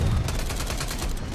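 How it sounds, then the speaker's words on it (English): Strafe run gunfire in Call of Duty Cold War: a loud, dense, continuous burst of rapid shots and booms filling the whole short moment, with some talk mixed in. "I just got killed by my own strafe run."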